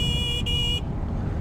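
A CFMOTO 150SC motorcycle horn gives two short, thin, high-pitched beeps over loud engine and wind rumble while riding, the beeps weak against the road noise.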